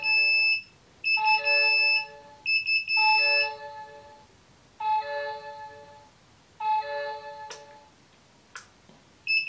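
An InkBird Smart thermostat sounds its temperature alarm in repeated bursts of loud, close electronic beeping, several long runs separated by short pauses, with a couple of faint clicks near the end.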